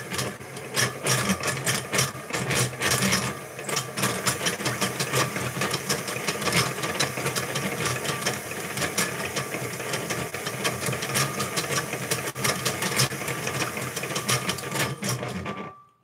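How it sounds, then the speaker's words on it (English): A faulty electric mixer blending soap batter gives a loud, steady mechanical whirring with a rough, grinding rattle, running continuously for about fifteen seconds, then cutting off abruptly at the end. "My mixer has been making an awful noise"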